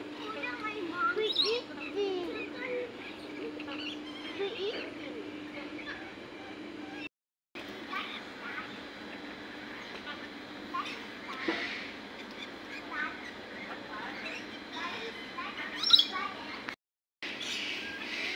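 Birds chirp and tweet in scattered bursts at a moderate distance in a Singapore bird park, over a steady background hum, with brief dropouts of near silence.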